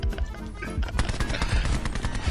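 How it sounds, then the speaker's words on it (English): Rapid automatic gunfire from the video game Call of Duty Black Ops 4, with dense overlapping bursts and shots rattling continuously and loudly throughout, no talk over it. "I think Cap's trying to shoot me."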